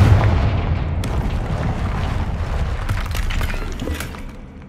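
Confringo blasting-spell explosions in the game Hogwarts Legacy, a continuous loud rumbling boom with crackling debris and several sharp bursts layered on top, fading slightly at the end.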